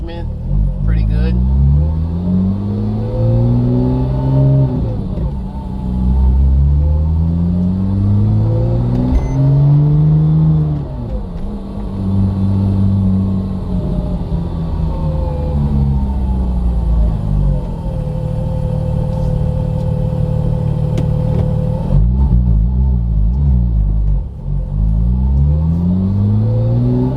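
Porsche 997 Turbo accelerating and shifting up through its gears, a loud, steady engine note that rises in pitch and then drops at each shift, heard from inside the car.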